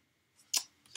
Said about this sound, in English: I'm cutting my stamps